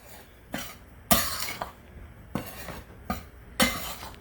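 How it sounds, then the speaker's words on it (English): A spoon stirs sugar and salt for pecan pie bars in a bowl, giving about six distinct scraping clinks and scuffs at uneven intervals, close by with no talk over them. "now I'm just going to give that a little stir"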